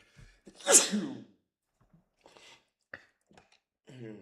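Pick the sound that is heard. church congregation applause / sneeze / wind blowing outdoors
sneeze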